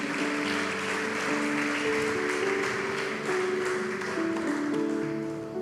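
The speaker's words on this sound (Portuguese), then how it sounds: "Nós oramos dessa forma e aplaudimos o nome de Jesus Cristo" A church congregation applauds together during a worship service, a dense, steady wash of clapping running the whole time, with sustained music or organ tones underneath.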